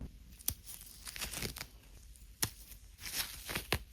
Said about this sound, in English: now we can seam rip this center seam, and that will expose the zipper